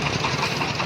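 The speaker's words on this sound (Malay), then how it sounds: "Lintu menggunakan motor Pronto, motor Pronto keliling padi" The engine of a Pronto motor vehicle, used around rice paddies in Aceh, runs with a loud, dense, close rumble and a steady knocking texture throughout the brief moment.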